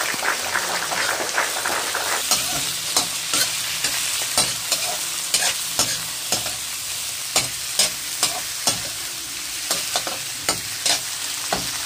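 Shrimp drop into a hot pan of cooked garlic and fry with a steady bright sizzle, punctuated by repeated sharp scraping and stirring clacks of a utensil against the pan, close and loud with no voices.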